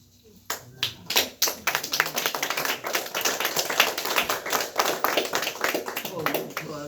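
Applause from a crowd at a poetry reading breaks out after a brief pause, dense steady clapping that swells and holds for several seconds.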